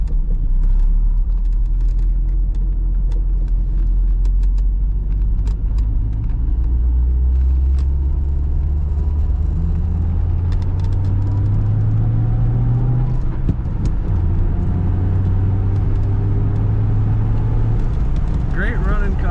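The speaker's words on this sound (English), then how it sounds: "Let's go around this roundabout and give you some acceleration one more time." A 1988 Chevrolet Corvette convertible with a manual clutch accelerates around a roundabout, its engine rumbling low and rising steadily in pitch as it pulls through the gears, loud and continuous from inside the car.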